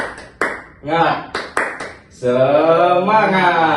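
Sharp hand claps in a short rhythmic pattern for a classroom 'tepuk semangat' ice-breaker, mixed with raised voices chanting in time, then giving way to a sustained group shout.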